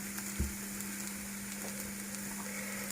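Mushrooms, chanterelles and oyster mushrooms, frying in a pan with a steady, even sizzle and crackle throughout, plus one soft knock of stirring, under a constant low hum and with no talking.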